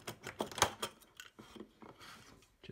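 A metal backplane being pulled off a Collins ADF-60 aircraft ADF receiver after its screws are removed, a short run of close scraping, clinking and rubbing metal sounds, fairly quiet, with no talking.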